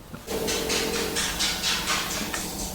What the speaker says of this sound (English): That's the sound of my dog coming here.